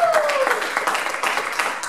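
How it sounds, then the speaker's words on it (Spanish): A church congregation applauds during a year-end service, dense overlapping clapping filling the space close by, with a voice carrying over it briefly at the start. "¿Cuánto le dan un aplauso?"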